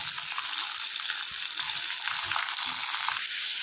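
Onions sauté in a pan for a quick vathakku chutney, giving a continuous close frying hiss with soft, irregular stirring scrapes and no voices.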